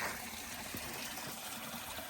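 A small man-made garden waterfall at Exbury Garden gives a steady, soft gushing trickle of water, continuous and fairly faint, with no talk.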